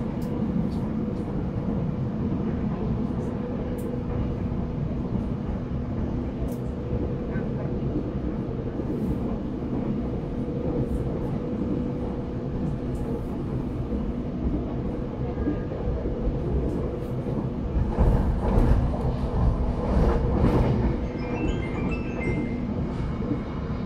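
Fajar Utama economy train running between Jakarta stations, heard from inside as a steady, loud rumble of wheels and carriage noise that swells briefly near the end, with no talking.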